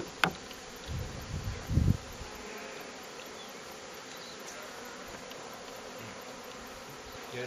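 Angry honeybees swarm around a stirred-up hive, a dense, steady buzzing drone that hangs close and continuous throughout, with a few brief low thumps and rustles near the start.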